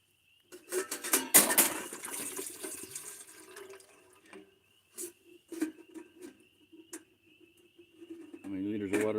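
Water pouring and splashing into a container in bursts, close by, with clinks and gurgles, ending in a steadier stream.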